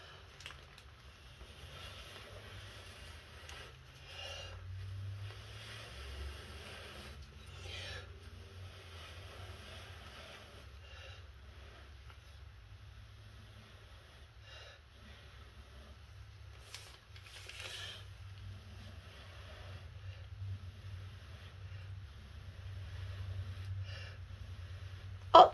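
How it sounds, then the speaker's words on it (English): A steady, low breath blows across wet nail polish for a long stretch, soft and breathy up close, with occasional faint taps and no speech. "I always pick it up and blow across if I don't use a tool"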